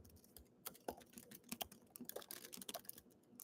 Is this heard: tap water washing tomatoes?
no